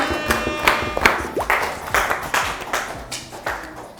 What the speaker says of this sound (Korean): 박수 부탁해.